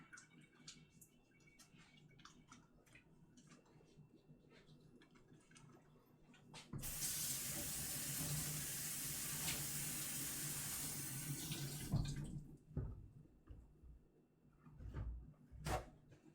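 Kitchen tap running steadily for about five seconds while hands are washed at a sink during cottage pie preparation, with clinks and handling noises before and after.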